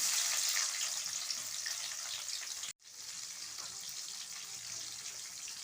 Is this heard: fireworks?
no